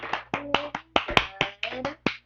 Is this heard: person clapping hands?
yes